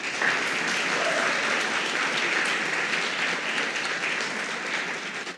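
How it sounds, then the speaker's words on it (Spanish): A church congregation applauds for the Lord, a dense, continuous wall of clapping held at an even, loud level for several seconds before easing off slightly at the end. "Denle un aplauso al Señor."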